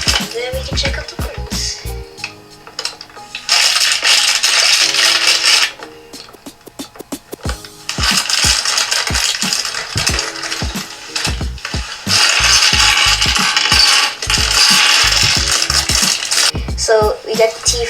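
A LEGO Hero Factory poly bag of plastic parts is opened, giving loud crinkling plastic rustles in long bursts between sharp clattering and rattling of small pieces, with a voice speaking at moments.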